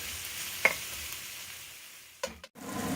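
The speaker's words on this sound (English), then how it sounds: "Fry the onions, garlic, and ginger next." Onions, garlic and ginger fry in a pan for vegetarian fried rice with turmeric, giving a soft, steady sizzle. A scrape of stirring comes early, then a couple of louder clatters near the end, and nobody speaks.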